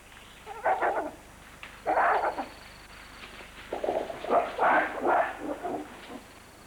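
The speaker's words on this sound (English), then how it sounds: "Gorillas do a good deal of barking as a warning or to appear aggressive." Gorillas give several short, gruff barks as a warning, in loose groups of two or three bursts separated by brief pauses, moderately loud against a quiet background.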